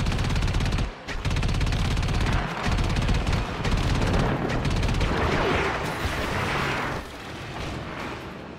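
Heavy guns on a Fomorian warship firing in the Warframe Archwing mission, dense rolling bursts of booming gunfire and blasts, loud and continuous throughout with no pauses.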